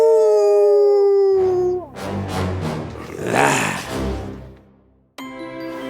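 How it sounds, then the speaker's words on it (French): A long, rising-then-falling howl rings out loudly, then drops into rough growling and snarling before a short tonal note returns at the end. "Le loup hurla de rage."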